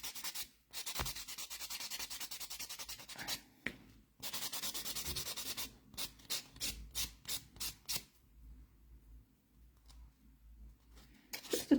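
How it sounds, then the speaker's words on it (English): Buffing a dip powder nail smooth with a nail file or buffer gives a close, dry, scratchy rasp in repeated back-and-forth strokes, continuous at first, then in quicker separate rubs with short pauses between them. "So I'm just going to go ahead and keep buffing that now"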